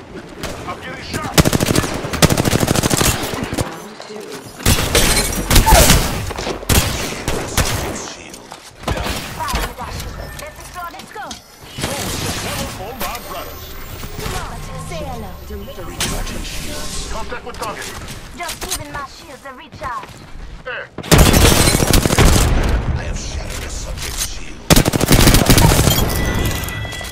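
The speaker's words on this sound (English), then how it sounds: "Taking fire, brother!" Gunfire in Apex Legends: loud rapid automatic bursts and single shots, close and repeated in heavy stretches with pauses, under game voice lines calling out.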